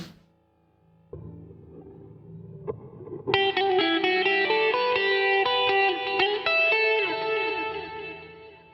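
An electric guitar through a HeadRush effects unit plays sparse notes, then a sustained strummed chord rings out with a wide, washy reverb tail that lingers and blends.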